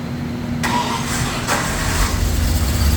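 1971 Jaguar E-Type XKE with a fuel-injected V12 engine cranks briefly and catches, then settles into a loud, rumbling idle with a steady low hum, close by, no talk.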